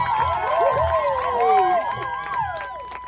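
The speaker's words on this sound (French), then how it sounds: "On applaudit tout le monde!" Audience cheering and applauding performers after a chaotic stage tale, with excited shouts and whoops over scattered clapping, lively and close.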